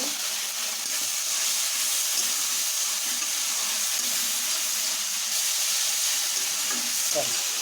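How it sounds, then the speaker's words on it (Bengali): A little water hits spices frying in a pan while Bengali masoor dal egg tarka is cooked, giving a steady, close sizzling hiss that holds evenly for several seconds, with a brief clink near the end. "অল্প সামান্য জল দেব"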